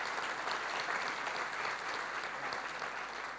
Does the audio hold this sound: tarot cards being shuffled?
no